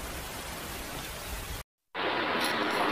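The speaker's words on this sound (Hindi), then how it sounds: "ये बारिश कब तक चलनी थी" Steady rain in a Hindi children's jungle cartoon, heard as a loud, even hiss that cuts to silence for a moment, then resumes brighter.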